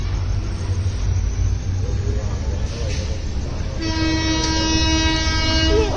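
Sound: train departing from railway station

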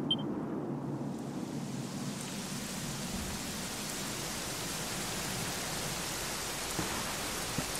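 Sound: rain in video game Dragon Quest XI

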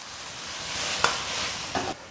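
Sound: mushroom cakes sizzling in a wok after adding cooking wine

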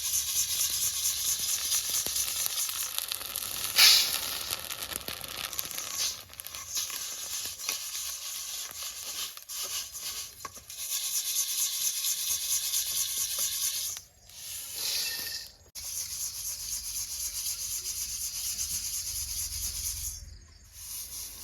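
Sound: puffed rice (muri) stirred and roasted in salt without sand

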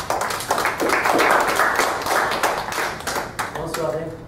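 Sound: audience applause at a round table

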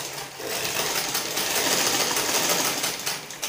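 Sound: sewing machine stitching gathering stitches on tulle

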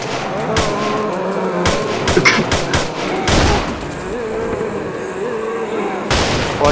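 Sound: gunfire shooting at zombies in video game ArmA 2

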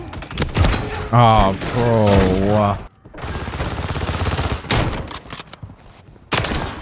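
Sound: Kar98K sniper rifle gunfire in a video game

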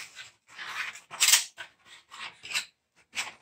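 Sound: big garden scissors cutting thin Duravent panel

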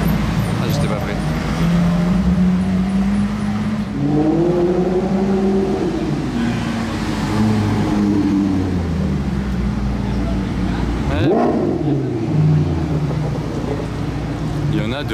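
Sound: Ferrari Monza SP2 car engine revving

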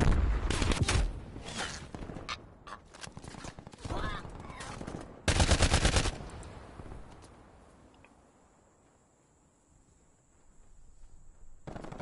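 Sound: machine gun gunfire in Call of Duty Cold War video game

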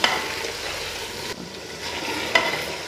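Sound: meat frying in pot for chicken pulao

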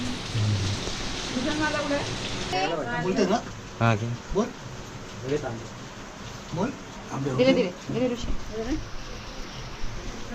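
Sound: heavy rain falling

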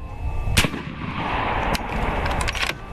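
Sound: AEA Zeus .72 caliber air rifle firing spike ammo

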